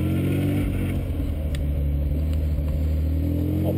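A 1967 Austin Healey drives down the road with a steady, close engine drone and a low exhaust rumble, revving through its gears with a light mechanical clatter.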